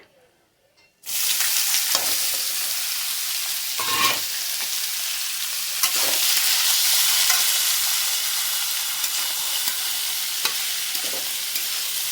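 A tempering of cumin, bay leaf and dried red chili hits hot oil with a sudden loud sizzle after a second of quiet, then fries on in a steady crackling hiss with occasional stirring knocks.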